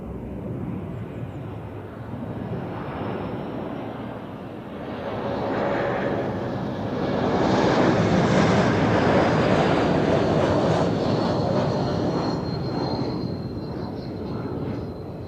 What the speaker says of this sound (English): Croatia Airlines with a A220 from Dubrovnik